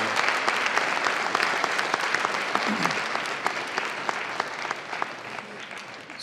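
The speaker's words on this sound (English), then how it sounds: "Let's have a round of applause for Ms. Morris and Mr." Steady applause from an audience at a Colorado courts community session held in a high school, even clapping throughout at moderate level with no talk.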